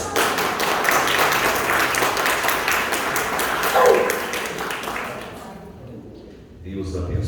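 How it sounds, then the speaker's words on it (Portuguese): An audience claps in applause at a book reading event, a dense, sustained burst of many hands that fades away toward the end. "Uma salva de palmas."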